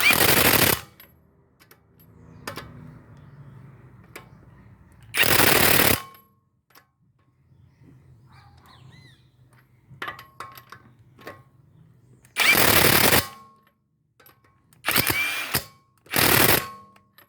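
An impact wrench with a torque-limiting extension tightens a stabilizer link on a 2014 Honda Vezel RU3 Hybrid, firing five loud, rattling bursts separated by quiet gaps that hold faint clicks and handling noises.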